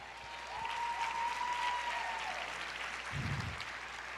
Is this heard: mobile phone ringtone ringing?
no